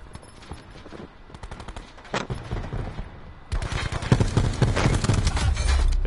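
Stingray gun fire in Black Ops 4, rapid bursts of synthetic rifle shots crackling in quick succession, sparse at first and then a dense, loud stretch of continuous firing.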